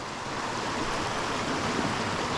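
A stream running with heavy current on a hike in the Dolly Sods wilderness in late July, a constant rushing wash of water, close and steady with no voices.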